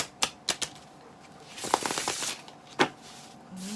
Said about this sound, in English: These are a little long and difficult to shuffle